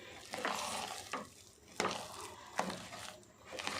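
A spoon scrapes and stirs a thick ragi and rice mixture in a pot, several rhythmic scraping strokes with soft sloshing, close and moderately loud, no talk.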